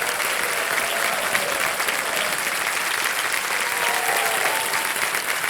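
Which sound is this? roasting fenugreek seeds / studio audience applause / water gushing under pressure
studio audience applause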